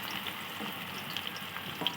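Chopped onions frying in a pan with cloves for a chicken dish, a soft, even sizzle with faint crackles and light scrapes, fairly quiet and without any voices.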